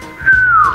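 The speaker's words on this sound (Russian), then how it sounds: "Ты нафига свистнул?" A single loud whistle from one person, meant to wake someone who is sleeping: one sustained, slightly falling tone lasting about half a second, close and clear.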